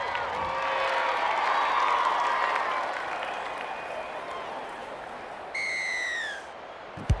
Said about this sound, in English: The crowd love that one and are on their feet applauding the play